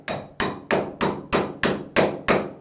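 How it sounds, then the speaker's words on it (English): A steel socket extractor is hammered down onto a bolt held in a bench vise: eight sharp metallic blows at a steady, even pace, each ringing briefly before the next strike. "Our socket extractor, we'll go ahead and pound it down on there."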